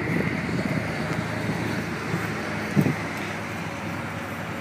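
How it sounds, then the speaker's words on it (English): Roadside traffic passes near a parked Dodge Caliber SRT-4, with a steady broad roar of cars driving by, wind rumble against the microphone and one brief louder swell midway. "People driving by,"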